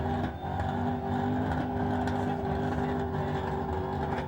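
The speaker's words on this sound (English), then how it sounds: "He is giving that a serious rev there." A burnout car at a Summernats event revs its engine hard and continuously, a loud sustained roar with steady tonal drone and rising pitch swells, close and dominant throughout.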